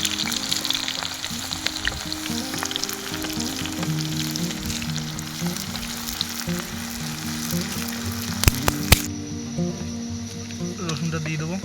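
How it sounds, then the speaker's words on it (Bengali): Onions and chillies fry in hot oil, a steady close sizzle with faint crackles running throughout, stirring clatter near the end; no talk. "তেল গরম হয়ে গেছে, পেঁয়াজগুলো দেবো। এর সাথে লঙ্কাগুলো দিয়ে নেব।"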